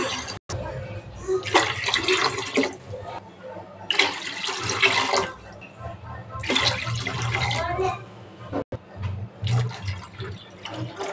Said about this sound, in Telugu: ఇప్పుడు ఈ గ్లాస్తో 5 గ్లాసులు నీళ్ళు పోస్తాను